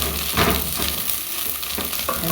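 Food being stirred with salt in a hot pan: a brief, steady sizzle with soft scraping strokes of a utensil, close and even in loudness.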